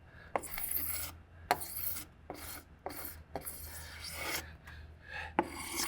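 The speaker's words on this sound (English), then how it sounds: "Scrape this off." Old paint being scraped off with a sharp blade, a series of close, rasping strokes in uneven bursts with short pauses between, quiet and alone.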